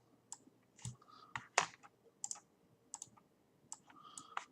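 Scattered computer keyboard and mouse clicks while keys are copy-pasted into a notepad file, a dozen or so sharp, close taps spaced irregularly over quiet room tone with no talking.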